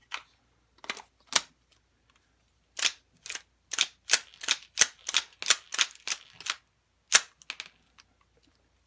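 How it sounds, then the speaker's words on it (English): BBs are pressed one at a time into a Tokyo Marui airsoft pistol magazine, a run of sharp close clicks, a few spaced apart and then in a quicker irregular burst, with no talk. "Now we'll load the magazine."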